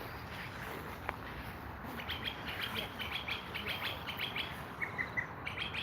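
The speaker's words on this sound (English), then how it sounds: "Birds are peeping." Small birds peep and chirp in short, scattered high calls over a steady outdoor background, with faint low rumble and no talking.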